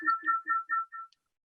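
A phone ringtone going off during a recorded meeting: five short electronic two-tone bursts in a steady rhythm, clear and close, then cutting off into silence.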